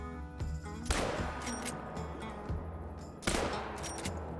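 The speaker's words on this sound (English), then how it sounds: "We've got ourselves some Gemsbok right here, and I think we should be able to get a shot into at least one of these" Two heavy, booming blasts from a 10ga shotgun aimed at gemsbok in Call of the Wild, spaced a couple of seconds apart over a faint game soundtrack.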